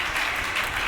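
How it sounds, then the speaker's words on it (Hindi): An audience at a Hindi comedy show claps in a brief, dense burst of applause, steady and fairly loud with no voices. "तालियां आप लोगों की कमजोर है, एक बार बजाएं"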